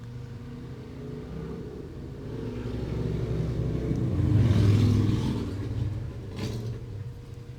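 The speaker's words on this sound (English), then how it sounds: "a really loud motorcycle or a hot rod that just zooms by on my street" A loud motorcycle or hot rod engine rumbles closer on a residential street, swells to a roaring peak as it zooms past, then fades away down the street.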